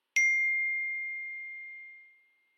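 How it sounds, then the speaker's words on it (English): A single clear text-message notification ding from a phone, sounding through a laptop, a bright tone ringing out and fading slowly over about two seconds in an otherwise silent room. "I'm sorry if you guys just heard my phone on my laptop."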